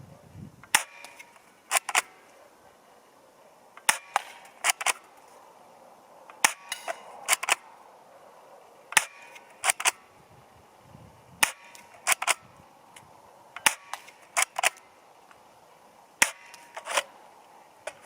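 A Steyr TMP Double Eagle airsoft pistol firing single sharp snapping shots at a 10 m range, close and loud, spaced irregularly a second or two apart, with occasional quick pairs.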